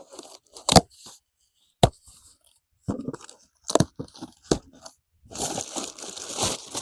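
A knife slicing open plastic packaging on a solar charger power bank, with sharp isolated cuts and tearing followed by a longer crinkling rip, close up and with no talk.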